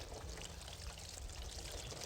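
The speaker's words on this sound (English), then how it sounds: "You're going to take your boiling water, you're going to pour it over the edge" Boiling water poured over the edge of a dented plastic car bumper gives a soft, steady splashing hiss throughout, quiet and unbroken.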